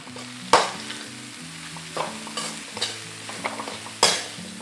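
Chickpea rice with lots of coriander is mixed in a pan, a soft sizzle beneath a few sharp spoon clacks against the pan and scraping strokes, with soft background music and no talking.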